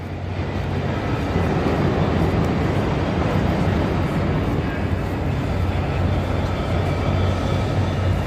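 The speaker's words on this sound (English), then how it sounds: "that's the sound of progress you hear right there. All that construction equipment" Steady, dense mechanical rumble with low droning engine tones from heavy construction machinery running continuously nearby on Fifth Avenue in Manhattan.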